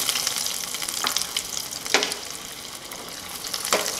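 Potato bites fry in hot oil with a steady, close hiss and crackle, and a few sharper bubbling bursts rise as pieces settle. No voices are heard.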